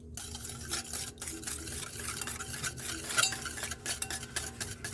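Oil and yogurt are stirred together in a bowl for jowar bread, heard as a continuous wet, churning swish with light clinks of a spoon against the bowl, close and fairly quiet, with no talk.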